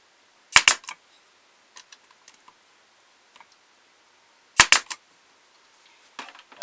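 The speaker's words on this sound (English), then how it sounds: "I glue it, and then I'm going to put a staple in here." Two sharp, loud staple-gun shots drive staples into freshly glued wood on the front of a ventriloquist dummy's body, with small clicks and handling taps between them in a quiet workshop.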